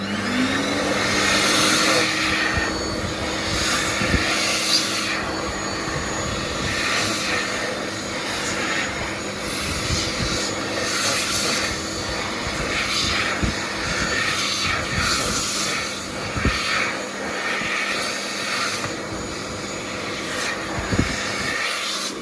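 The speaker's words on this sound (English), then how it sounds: "Now we're about to see it's very quiet on low power, although performance is not that great." Mitsubishi Jet Towel Mini hand dryer running on low power: a steady, moderately loud airy whoosh with a faint motor hum underneath, continuous throughout with small fluctuations as hands move in the airflow.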